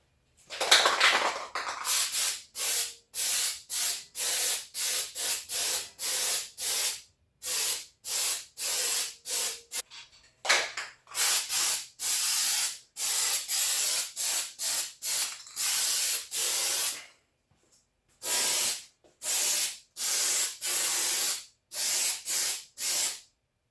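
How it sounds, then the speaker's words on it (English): Spray can of weld-through primer being applied to metal patch panels for a Porsche 914, many short sharp hissing bursts in quick rhythmic succession with brief gaps, loud and close with no talk. "I'm going to spray some weld-through primer on them."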